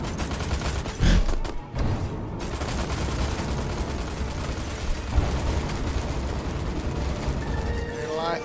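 Continuous dense gunfire and crackling blasts from a firefight in Destroy All Humans 2, loud and sustained, with a brief heavy thump partway through.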